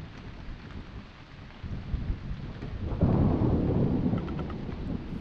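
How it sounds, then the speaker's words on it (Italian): Steady rain falls with a low rumble of thunder swelling partway through in the pixel-art video game Eastward, a dense ambient wash with no voices. "Bella anche quella pioggia."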